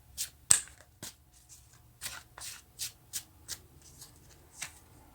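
Tarot cards are shuffled by hand in a quiet room, a series of soft papery riffles and slaps in short bursts, close and fairly faint.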